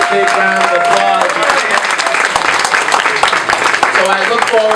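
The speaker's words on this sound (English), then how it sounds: "Give him a big round of applause." Audience applause at a Queens Pride Parade breakfast, a steady wash of clapping filling the room for several seconds, with a voice speaking over it.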